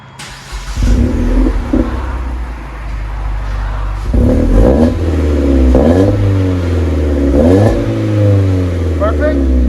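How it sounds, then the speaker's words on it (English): 2014 Ford Fiesta with a two-chamber Flowmaster-style rumble muffler, close and loud, the engine revving up and dropping back several times over a deep idle drone, with a voice talking over it. "It's basically like a Flowmaster knockoff 2-chamber muffler."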